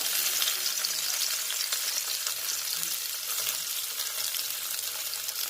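Onion, curry leaves and green chilli sizzle steadily in a hot pan for onion sagu, a dense, even crackle that holds throughout with no talking.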